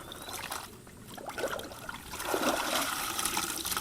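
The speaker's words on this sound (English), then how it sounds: "I'm going to dunk this chicken in water" A plucked old rooster being dunked in water, giving a steady wet sloshing and trickling wash of liquid with a brief splash, close and moderately loud, no voices.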